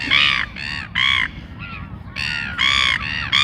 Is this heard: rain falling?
no